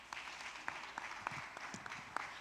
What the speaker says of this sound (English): That applause can be louder, please.